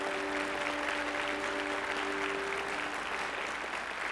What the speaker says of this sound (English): We ought to applaud for that